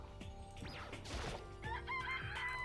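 A rooster crows in the video game Danganronpa, a clear cock-a-doodle-doo call rising and falling over about two seconds, with a sharp clattering hit just before it and no talking.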